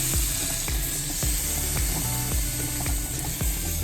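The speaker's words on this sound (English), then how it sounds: "Really get all around that steak. Really give it a good sear." A steak sears loudly in a hot pan, with a dense, constant sizzle and a regular series of low thumps as it is pressed and moved around.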